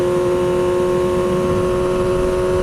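A motorcycle engine holds a steady loud drone with sustained tonal hum through a clutchless upshift, the pitch barely shifting as the throttle drops off and the gear changes.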